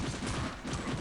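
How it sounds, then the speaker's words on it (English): A burst of rapid video game gunfire hits the player's character, heard as a dense, loud, continuous rattle of shots across a moment of about one second. "I'm being shot to death."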